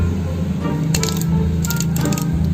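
Metal clicking of the rebound adjuster being turned on a DBS copy of a KTC motorcycle shock absorber, several close, sharp clicks in two short bursts over a steady low hum.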